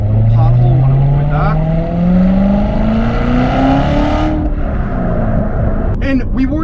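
A 2017 Corvette C7 Z06 with a manual gearbox accelerating hard, its engine note climbing steadily in pitch, loud and close from inside the cabin, with a voice talking over it.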